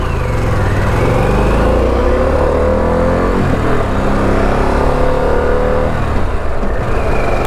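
A Harley-Davidson Pan America 1250 motorcycle's engine runs loud and close during a ride, a continuous droning roar with shifting pitch as it revs and accelerates, with no talking.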